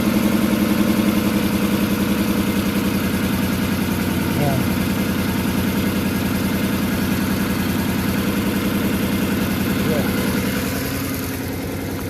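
Engine of a 1998 Toyota 4Runner idles roughly while misfiring, a loud continuous low rumble with an uneven pulse that eases slightly near the end; a voice is heard over it.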